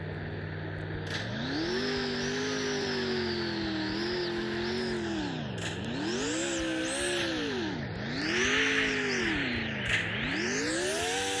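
A virtual car in the Roblox game Car Dealership Tycoon drives with a whining engine that climbs through repeated gear shifts, each rise falling sharply before building again, steady and without talk.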